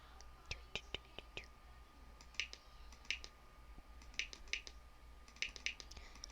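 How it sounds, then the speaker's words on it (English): Keys tapped on a computer keyboard during an online logo quiz game, heard as irregular bursts of sharp clicks over a low steady hum, quiet and close with no voices. "I'm just typing it."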